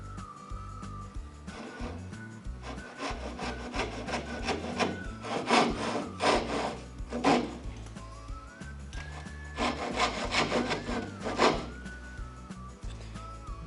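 A handsaw cutting into the shoulder of a tapered, wedge-shaped wooden joint, with rhythmic rasping strokes in bursts and short pauses between them, close and fairly quiet, no talking.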